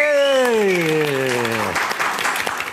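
A studio audience claps on a TV programme while a loud, falling tonal sound sweeps down over the first part. Scattered clapping and crowd noise carry on underneath and then take over.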